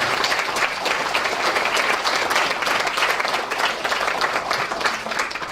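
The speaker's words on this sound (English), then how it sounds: "quick round of applause for Lucy." Steady, dense applause from an audience fills the whole stretch, a round of clapping honouring Lucy Wood, a silver medal winner, at an organisation's success event, with no talk over it.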